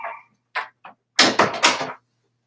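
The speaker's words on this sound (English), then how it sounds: "I'm going to close the door." A few short handling noises, then a loud cluster of broadband knocks and rattles as a door is pushed shut close by, followed by quiet.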